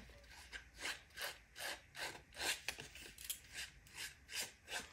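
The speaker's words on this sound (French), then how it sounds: "On va venir gratter les contours pour faire un petit bord blanc." Paper edges are scraped by hand to make a small white border in a scrapbooking album made from leftover paper scraps, giving about ten rhythmic rasping strokes close up, with no talk.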